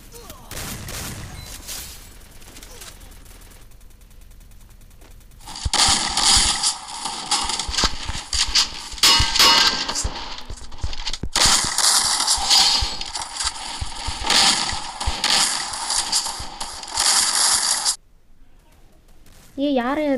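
Repeated, loud gunfire from an M1887 shotgun in the video game Free Fire, with dense overlapping blasts over roughly twelve seconds before cutting to quiet.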